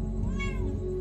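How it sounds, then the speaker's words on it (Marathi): A tomcat meows once at mealtime beside a wood-fired clay stove, a single close, drawn-out and fairly loud cry with no talking over it. "आता जेवायला बसलं की सतवते बघा मांजर"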